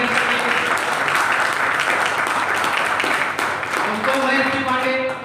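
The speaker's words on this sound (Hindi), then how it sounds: "एक बार जोरदार तालियां बजाइए।" A crowd claps loudly and steadily at a health awareness program, a dense continuous wash of applause that holds throughout before easing slightly at the end.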